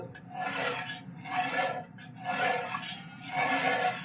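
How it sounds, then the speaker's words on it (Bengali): A spoon scrapes and stirs milk with jaggery in a pot, making rhythmic rasping strokes about once a second, close and steady with no talk. "দুধটাকে হালকাভাবে নাড়তে হবে।"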